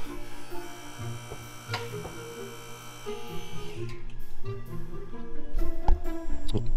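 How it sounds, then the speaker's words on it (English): An electric car hoist hums and whirs steadily as it raises a long custom land yacht limousine in a garage during suspension adjustment, growing louder toward the end with a few clanks. "So now I have to go back up with the hoist."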